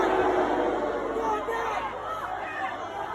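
Crowd at a WWE event in Perth, a loud massed roar of voices with booing and jeering that stays steady and near throughout the short span.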